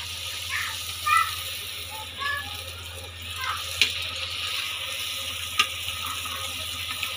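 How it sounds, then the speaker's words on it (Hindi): Golgappa puris fry in a kadhai of hot oil with a steady, close, broadband sizzle, joined by a few sharp clicks and light scraping clatters. No voice is heard. "जब भी आप गोलगप्पे सेको, तो इसी तरीके से कढ़ाई में डालना"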